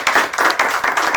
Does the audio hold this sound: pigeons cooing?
no